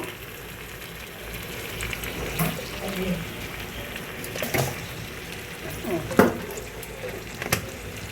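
Ghee sizzling in a hot pan before rice goes in for homemade chicken pulao, a soft continuous frying hiss with occasional clinks and stirring knocks, fairly quiet and close.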